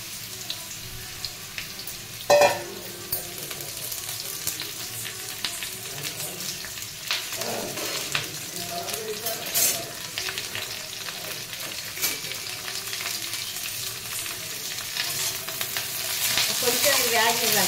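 Potatoes frying in oil with onion and green chili, a steady loud sizzle with stirring scrapes and a sharp clank early on, the hiss swelling toward the end.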